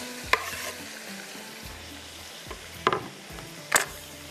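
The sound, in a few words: tomatoes added and stirred into frying pan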